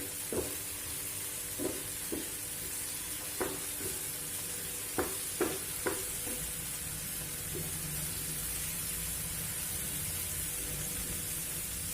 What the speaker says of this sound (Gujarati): આપણે ડુંગળીને પણ સરસ રીતે આમાં મિક્સ કરી દઈશું અને સારી રીતે સાંતળી લઈશું